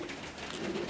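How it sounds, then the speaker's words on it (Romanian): Racing pigeon giving a soft, low cooing call up close, steady and murmuring and rising slightly toward the end, with no speech. "Vă prezint porumbelul"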